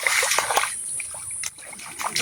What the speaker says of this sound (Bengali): এভাবে কিন্তু এই পাটটা ধুলে পরে কিন্তু খুব তাড়াতাড়ি ধোয়া হয়ে যায়।